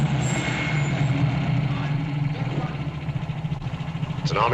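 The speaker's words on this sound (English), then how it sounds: "It's an army truck." An army truck engine idling on a road in 1946 wartime Ireland, a loud, steady low diesel rumble that fills the whole stretch, with a brief hiss near the end.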